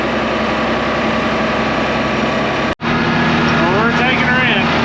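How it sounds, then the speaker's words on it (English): An old IH Gold Demo 1456 cab tractor engine runs warm and idles with a loud, steady, close drone that cuts out for an instant midway, then resumes with faint whistling tones above it. "I know it's noisy and some of you are going to complain, but not much I can do about an old cab tractor like this."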